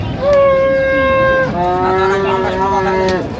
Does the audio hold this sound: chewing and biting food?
no